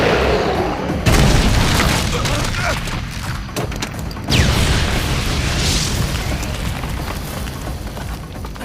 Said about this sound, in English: that grenade explosion was big enough to kill them all